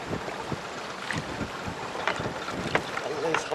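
On a fishing boat on the Sea of Galilee, wind gusts buffet the microphone and waves slap against the hull in irregular knocks, with faint voices in the background.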